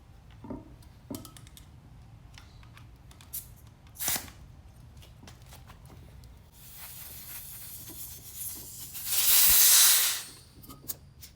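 Air from a Coolster 125 ATV tire hisses out in short spurts as the valve stem comes out, then a strong, close rush of escaping air lasts about a second, with small ticks and handling clicks around it.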